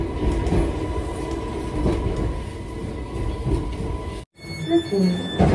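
An Island Line passenger train rolls along, heard from inside the carriage: a steady low rumble with wheel clatter that briefly drops out near the end, then returns with faint squeals and a thin tonal whine.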